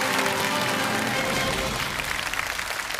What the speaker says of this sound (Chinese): 我们先用掌声有请魏镜老师为我们开讲